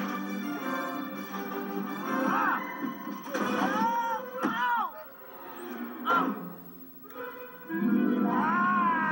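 A cartoon-style house cat yowls and caterwauls during a frantic indoor chase, with rising and falling meows and wails over busy movie sound, close and loud, while voices shout nearby.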